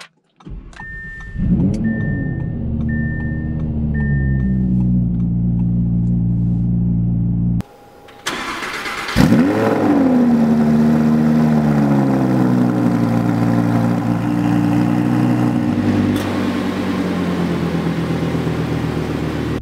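A 2020 Audi R8 V10 Performance engine cranks and catches, settling into a steady low idle; it cuts briefly, then restarts with a rev and holds a rumbling idle, close and loud.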